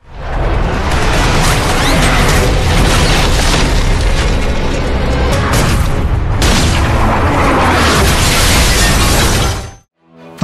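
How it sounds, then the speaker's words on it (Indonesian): Heavy explosions set off by tanks in an action film battle scene, a dense continuous roar of blasts, crashes and debris, very loud throughout before cutting off abruptly near the end. "Stonebanks kemudian memerintahkan untuk meledakkan mereka dengan beberapa tank yang ada di sana."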